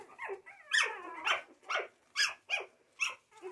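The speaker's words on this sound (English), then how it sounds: "They're just going around yipping." A litter of puppies yip and bark in short, high-pitched bursts, about six or seven quick calls in a loose, uneven rhythm, close by and moderately loud with quiet gaps between.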